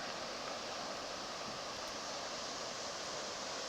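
Steady broadband rush of creek water spilling over a dam, heard continuously and fairly loud from a float trip, with no other distinct sounds over the roar.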